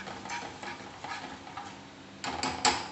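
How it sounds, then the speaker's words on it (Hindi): A spoon stirs powdered spices and asafoetida in a pan, steady rhythmic scraping strokes about every half second, then a few louder clacks of metal against the pan near the end, close and fairly quiet with no talk. "इन सभी को करेंगे अच्छे से मिक्स।"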